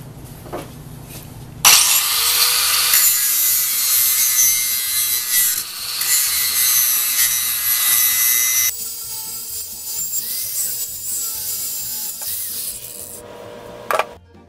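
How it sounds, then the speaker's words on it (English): A small power grinder whines steadily against metal, grinding away a screw head on an antique beam drilling machine, loud and close, with a pitch change partway through, then cuts off near the end. "I'm going to take the grinder and I'm going to grind away the head of that screw."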